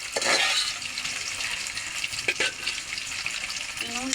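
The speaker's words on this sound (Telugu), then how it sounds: "నూనె కాగాక ముక్కలు ఈ నూనెలో వేసేస్తున్నాను. ఈ బాగా డీప్ ఫ్రై అవ్వాలి" Pieces deep frying in hot oil give a steady, bright crackling sizzle throughout, with a few brief stirring clicks and a faint voice near the end.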